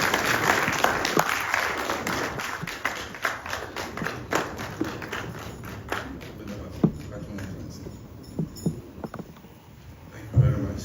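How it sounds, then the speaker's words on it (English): A crowd applauding at Jubilee House in Ghana, with dense clapping that swells at first and then gradually thins out, followed by a thump near the end. "A round of applause, please."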